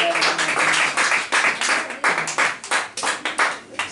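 A church congregation at a Sunday service claps together in a burst of applause, with uneven rhythmic hand claps that stay close and loud for a few seconds.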